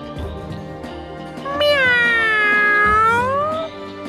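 A single long, drawn-out cat meow rises and falls clearly after a short stretch of quieter rustling, loud and close.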